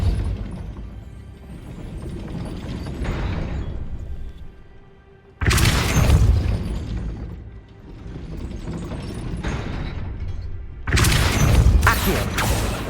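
Depulso spells are cast in Hogwarts Legacy, set among grinding mechanical rumble. Two sudden loud, bright impact bursts come mid-clip and near the end, each followed by crashing, clattering debris.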